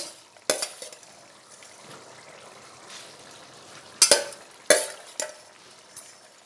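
A spoon stirs pre-fried shrimp into bottle gourd curry in a pot with a few sharp metallic knocks and scrapes over a faint low bubbling, and no talk.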